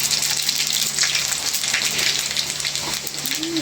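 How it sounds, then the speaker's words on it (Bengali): Panch phoron and dried red chillies crackle and sizzle in hot oil, a steady broadband frying hiss throughout with no pauses, close and fairly loud. "তেল গরম হয়ে গেছে দিয়ে দিলাম পাঁচ ফোড়ন দাও শুকনো মরিচ দাও"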